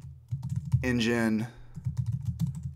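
Rapid clicking keystrokes on a computer keyboard patter in uneven bursts through most of the stretch, pausing briefly while a voice speaks for a moment in the middle.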